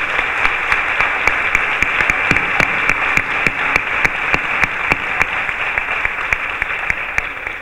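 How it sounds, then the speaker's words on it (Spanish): A strong round of applause from an audience at a fair poster and book presentation, dense and steady with sharp individual claps standing out throughout. "yo le vuelvo a pedir un fuerte aplauso a ellas"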